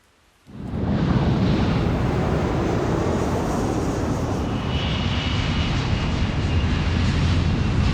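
After a brief quiet moment, a loud airplane roar rises abruptly over a forest and holds steady, a broad rushing engine noise with no voices.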